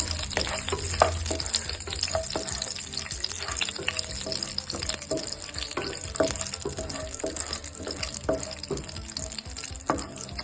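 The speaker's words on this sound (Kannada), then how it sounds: "ಸ್ವಲ್ಪನೇ ಸಾಕು, ಫ್ರೈ ಮಾಡಿ ಹಾಗೆ ತುಪ್ಪ ಸಮೇತ ತಗೊಳ್ಳಿ" Raisins sizzle and crackle in hot ghee for carrot halwa, a steady loud frying hiss broken by sharp pops and the scrape of stirring, with no talking.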